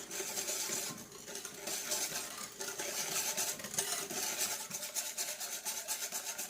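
Batter is stirred by hand with coconut milk mixed in, giving a steady scraping and rubbing of utensil against bowl with faint clinks, close and continuous with no talk.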